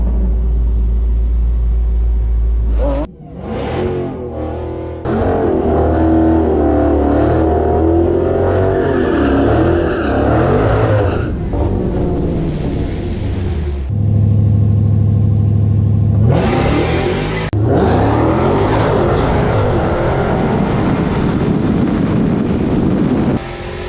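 Dodge Demon 170 muscle cars drag racing side by side at a drag strip, a loud continuous engine roar and rumble with a sharp launch, revving surges and wind buffeting, alone without talk.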